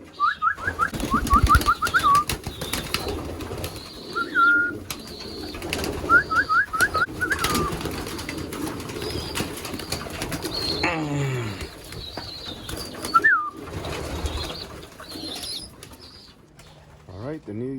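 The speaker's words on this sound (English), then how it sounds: "Gonna allow these pigeons" Racing pigeons in a loft give soft, repeated coos and a few short whistling calls, with brief bursts of wing flapping and shuffling nearby.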